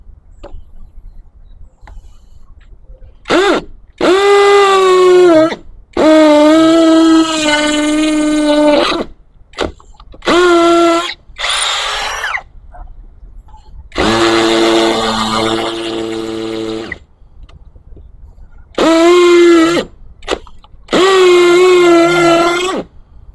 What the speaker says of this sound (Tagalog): try naman natin sa hammer. So halimbawa concrete yung bubutasin natin, no?